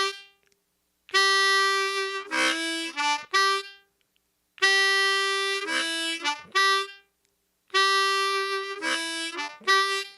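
Blues harmonica in a slow, repeating loop of 2-draw, 2-blow and 1-draw notes, played three times with clear pauses between; held reedy tones followed by short choppy notes, close and loud with no talk.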